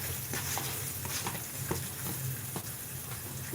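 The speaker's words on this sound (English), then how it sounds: "I'm adding my onions." Onions dropped into hot grease left from frying cube steak for gravy, a steady close sizzle and crackle with a few sharper pops and stirring scrapes throughout.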